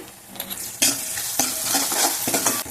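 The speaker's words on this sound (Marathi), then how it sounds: "मोठ्या आकाराचा कांदा तो आपण गुलाबी होईपर्यंत परतून घेऊया थोडासा टाकूया हिंग आणि थोडंसं टाकूया मीठ" Large chopped onion sautéing in oil in a pan with a pinch of asafoetida and salt, a loud close sizzle with stirring scrapes and a few spoon knocks, no voices.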